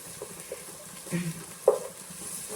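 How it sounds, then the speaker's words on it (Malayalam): Chili powder and green chili stirred as they fry in a pan, with a soft sizzle and a few quiet scrapes and one sharper clink, faint and close. "എന്നിട്ടിങ്ങനെ ഇളക്കുക. ഇനി ഇതങ്ങനെ ഫ്രൈ ആവണേ."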